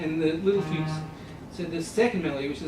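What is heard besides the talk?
None of the usual background noises is heard.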